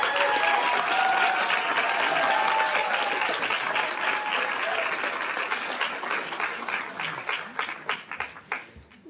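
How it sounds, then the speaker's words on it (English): A school board meeting audience applauds the winner of a Spanish spelling bee, a dense, loud wave of clapping that holds steady, then thins into a few scattered claps as it fades. "A round of applause."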